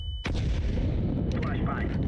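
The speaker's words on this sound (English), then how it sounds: "Smoke. Deploying flashbang." A flashbang grenade in the video game Counter-Strike 2 goes off with a sudden loud blast that fades into a long hissing, ringing wash, with other in-game sounds flickering underneath.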